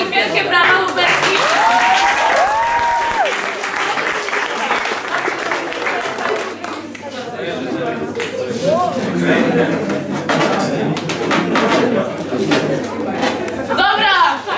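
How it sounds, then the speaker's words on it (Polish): Loud, sustained crowd applause at an outdoor city game event in Mielec, dense clapping lasting throughout with chatter and voices mixed in. "Proszę dla nich wielkie brawa, Huberti."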